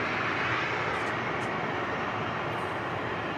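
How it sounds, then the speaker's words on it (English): An Emirates airliner climbs away after takeoff at Manchester Airport, its engines giving a steady, loud, broadband roar that holds constant without pause and carries no talk. "As it climbs away, you've seen the clouds in the background as it rotates off the runway"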